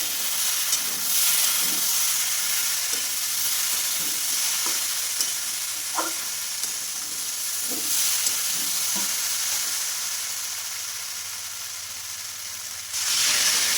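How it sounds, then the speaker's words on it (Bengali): Vegetables are stirred in a hot pan after the lid comes off, a steady sizzle and hiss of frying with intermittent scraping clicks of the spoon against the pan, and a brief louder burst of sizzling near the end. "একটুখানি ঢাকা দেওয়ার পরে তারপর খুলে আবার একবার নাড়াচাড়া করে"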